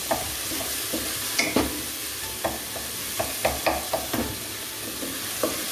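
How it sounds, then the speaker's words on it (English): Chopped tomatoes frying in a pan as a spatula presses and stirs them, giving soft irregular scrapes and squishes over a steady close sizzle. "We need to crush the tomatoes here with this spatula."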